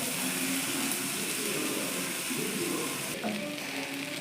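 Onions frying in a pan with tomato sauce, a dense close sizzle holding steady before settling softer near the end, with faint stirring.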